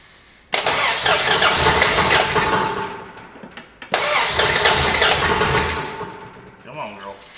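An old Mopar car left abandoned for over twenty years cranks and catches twice, each start a loud burst of rough engine roar that fades out, with a voice heard near the end.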